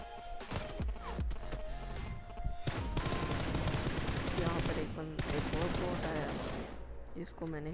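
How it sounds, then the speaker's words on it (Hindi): Rapid bursts of gunfire from an enemy bot in the mobile shooter PUBG Lite, loud and dense, repeating through the clip with a voice talking over it. "अभी एक बॉट ने फायरिंग करना शुरू कर दी"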